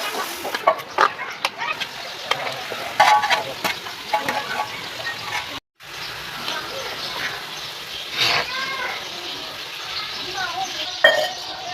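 Tomato, ginger and garlic paste frying with meat in a pot, stirred with a steady sizzle and scraping, with a short break midway; chickens cluck faintly in the background.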